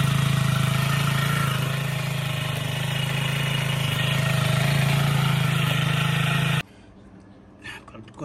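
Kawasaki Z125 motorcycle idling on its stock exhaust before a muffler swap: a steady, close low-pitched putter runs for several seconds, then cuts off abruptly, leaving quiet room noise and a brief faint clatter.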